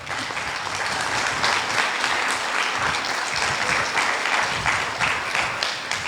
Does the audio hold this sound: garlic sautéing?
no